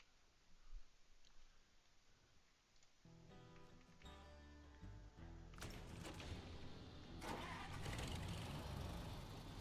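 In the SnowRunner off-road driving game, a truck engine cranks and fires up, settling into a rising, rumbling run that grows louder toward the end, with clicking sounds along the way.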